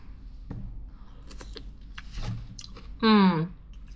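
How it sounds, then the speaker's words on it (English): Crunchy coconut flakes being chewed close to the mic, scattered crisp crunches at a relaxed pace, followed by a short voiced sound near the end. "These coconut flakes are crunchy."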